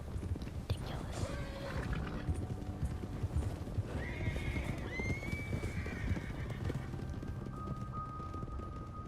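In Red Dead Redemption 2, a horse's hooves pound in a quick rhythmic clip-clop while it whinnies several times, the neighs rising clearly over continuous galloping, with faint talk in the background.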